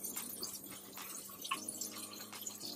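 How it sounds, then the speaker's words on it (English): Dishes are washed at a small apartment kitchen sink, with faint running water, drips and light clinks of dishware continuing throughout and no talking. "And Bill doing dishes."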